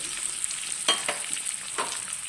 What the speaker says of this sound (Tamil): தீயை சிம்மில் வச்சு இதை நல்லா அப்படி இந்த எண்ணெயிலே ஃப்ரை பண்ணி எடுங்க